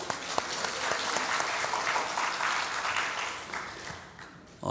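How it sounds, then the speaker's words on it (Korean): A dense, steady wash of audience applause fills nearly five seconds at moderate volume, many hands clapping together without pause before it briefly thins at the end. "박수하겠습니다"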